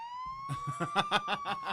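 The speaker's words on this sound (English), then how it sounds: "That's our serious siren." A siren sound effect on a podcast sweeps upward in pitch, then pulses in rapid, loud repeated wails for under two seconds, heard alone.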